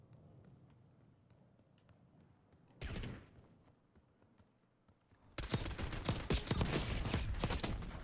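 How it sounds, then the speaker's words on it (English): Rapid automatic gunfire during a Warzone firefight, a short loud burst after quiet, then a longer, denser volley of close shots rattling to the end. "Very lucky we win our gunfight"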